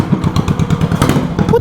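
Briggs & Stratton vertical-shaft small engine mounted horizontally and belt-driven, chugging in a fast, steady thumping rhythm close by with rattling clatter, no talk over it.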